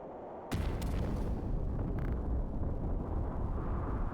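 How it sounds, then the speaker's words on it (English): A sudden, loud blast from the Final Fantasy Tactics video game bursts in after a brief quiet, then gives way to a sustained, rumbling roar that carries on to the end with no voices. "What was that? An explosion?"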